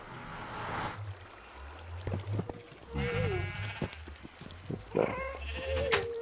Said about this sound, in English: And you see, now there's sheep.